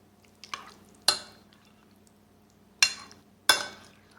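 A spoon mixes chicken with yogurt marinade in a bowl, making four distinct wet scraping strokes at uneven intervals, close and moderately loud with quiet gaps between them.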